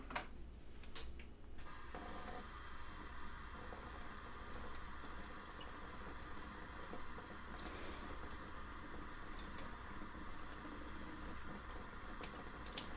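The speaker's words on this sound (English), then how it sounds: "I'm just letting the water run over them." Kitchen tap water runs steadily over food being rinsed in a sink, a continuous close hiss and splash lasting throughout after a brief change at the start, with no talking.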